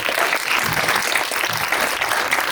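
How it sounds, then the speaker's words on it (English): An audience at a community movie night claps in a continuous, fairly loud round of applause to welcome a city councilmember, with no pauses. "a round of applause"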